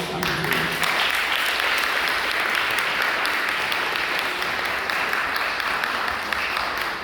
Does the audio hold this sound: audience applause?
yes